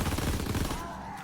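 Rapid assault rifle fire from a gas-powered carbine in a WWII Nazi Zombies video game, a dense burst of fast shots that tails off within about a second.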